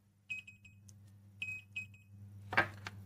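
A multimeter on a continuity test during a PS4 controller repair gives several short, thin electronic beeps at close range, separated by light clicks and handling noise.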